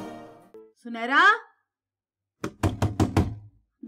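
Knocking on a door in a domestic family-drama scene, a short burst of rapid raps between stretches of talk, with a voice speaking before and over them.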